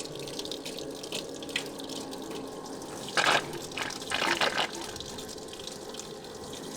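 Coolant water gurgles and splutters as air bleeds out while the cooling system of a four-turbo AWD LS-swapped Audi is filled, with steady flowing hiss broken by a few louder bursts of bubbling.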